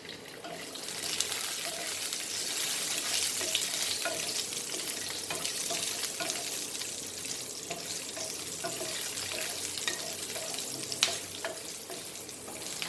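Dill and peri peri chilies fry in a pan with a continuous, even sizzle and crackle over about thirteen seconds, joined by occasional faint clicks and stirring, with no talking.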